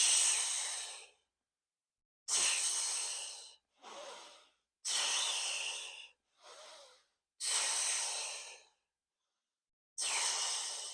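Steady, audible breaths during a mat Pilates class, with long inhales and exhales alternating with short ones and silent gaps between them, close and clear.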